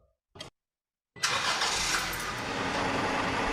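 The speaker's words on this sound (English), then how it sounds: "Start the engine up." A car engine cranks and catches on the lift during an automatic transmission service, with a short crank burst, a pause, then a loud start settling into a steady idle, with no voices.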